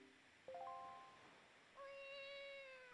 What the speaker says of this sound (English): Yep, you're being followed by a cat